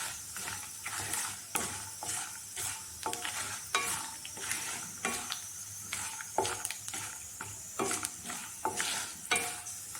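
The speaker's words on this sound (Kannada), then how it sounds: "ಇದು ಸ್ವಲ್ಪ ಚೆನ್ನಾಗಿ ಫ್ರೈ ಆಗಲಿ." Peanuts frying in a pan for breakfast poha, a busy close sizzle with repeated scraping and stirring clatters of a spoon against the pan, no talking.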